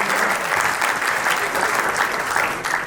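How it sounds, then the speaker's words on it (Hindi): Loud, dense applause from a large audience at a ceremony, a steady roar of many hands clapping that holds for the whole stretch and eases slightly at the end. "एक बार जोरदार तालियां आपके लिए।"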